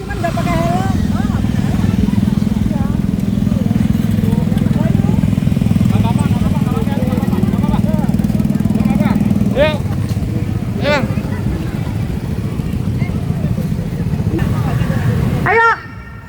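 Motorcycles in a street protest convoy make a steady, loud engine drone with engines revving and rising now and then, while people talk and shout over the noise.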